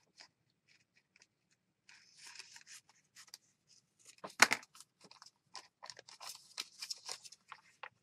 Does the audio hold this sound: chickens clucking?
no